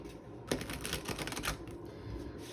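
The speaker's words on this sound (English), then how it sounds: "So I'm gonna shuffle the same deck a few more times" A deck of tarot cards being shuffled, a soft papery riffle of quick close rustles and flicks in a quiet room, with no talking.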